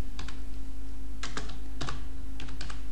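Keys clatter on a computer keyboard as a surname is typed into an online form, in short bursts of quick clicks separated by pauses, close up over a steady low electrical hum.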